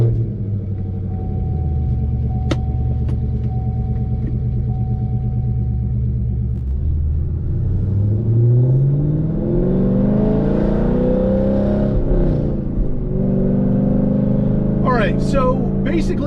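A 2010–2015 fifth-generation Chevrolet Camaro SS muscle car with long tube headers drives off. Its loud, deep exhaust rumble idles and then revs up with rising pitch, and a voice speaks briefly near the end.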